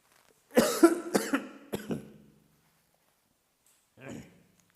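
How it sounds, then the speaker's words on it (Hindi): A burst of several harsh coughs in quick succession, close and loud, followed after a pause by one more quieter cough. "थोड़ा सा खांसी है अभी भी"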